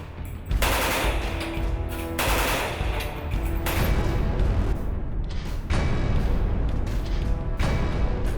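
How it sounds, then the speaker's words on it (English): A Bulgarian AK-47 assault rifle with a plastic stock fires on full auto, loud sustained bursts of rapid gunfire separated by brief pauses, close and without talk. "This particular one is a Bulgarian one. Plastic stock, and this one is full auto,"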